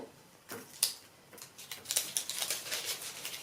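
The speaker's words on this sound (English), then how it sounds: "I'm actually just going to cut that off because I don't want to iron that." Scissors snipping away excess fusible web while making fabric holly leaves for a Christmas craft, a few short crisp cuts close by, quiet and alone.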